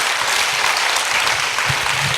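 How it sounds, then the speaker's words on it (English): Audience in a church-style talk claps loudly on request, a dense, steady wash of hand claps filling the whole moment without pause. "Can you give a loud clap to Jesus, please?"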